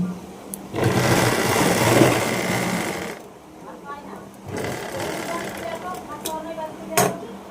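Sewing machine stitching a pocket on school trousers, a fast buzzing run for a few seconds, a pause, then a second shorter burst, close and loud, with a voice talking in between.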